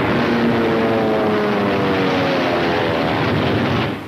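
Steady loud drone of a World War II military propeller aircraft over Tarawa, with harmonic engine tones sustained throughout and no voices.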